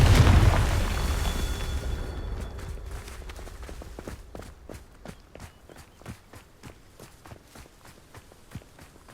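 A Confringo blasting spell goes off in Hogwarts Legacy, a loud burst that fades over a couple of seconds, followed by a steady run of close footsteps.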